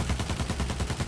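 Rapid automatic gunfire from the player's overheating gun in Battlefield 1, a dense, loud, evenly spaced burst of shots with no talking.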